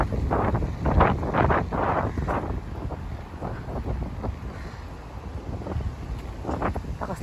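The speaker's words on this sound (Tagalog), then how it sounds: "Lakas lang ng hangin." Strong wind buffets the microphone outdoors among high-rise buildings near Marina Bay, Singapore, a loud, continuous rumbling roar with gusty swells throughout, no talking heard.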